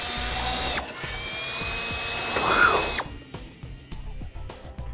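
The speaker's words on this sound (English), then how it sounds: "we're gonna drill out the two holes that are on each side of our base plate" A power drill bores out holes in a Blue Ox base plate being fitted to a 2010 Mini Cooper, whining steadily for about three seconds up close before cutting off, leaving faint clicks and shop noise.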